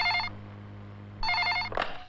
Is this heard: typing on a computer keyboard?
no